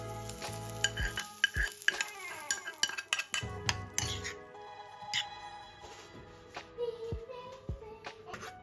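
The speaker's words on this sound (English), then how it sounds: "Add a bit of salt and mix all ingredients together." A spoon stirs and mixes chopped ingredients with salt in a bowl, producing repeated close clinks, scrapes and wet shuffling sounds in an irregular rhythm against a quiet kitchen background.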